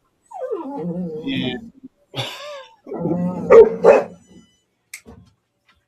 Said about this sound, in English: She's growling at him.